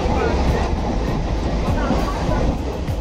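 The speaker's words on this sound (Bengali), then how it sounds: "তো ট্রেনে উঠে পড়লাম।" Riding aboard a passenger train: a steady, loud rumble of wheels and carriage with faint rattling runs unbroken throughout.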